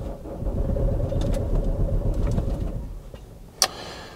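A Vauxhall Antara diesel engine cranks over without firing, a close, rumbling churn that runs for a few seconds and then dies away, followed by a sharp click.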